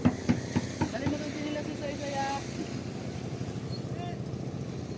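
A boat engine drones steadily under wind and water noise, with a few knocks at the start and people talking over it.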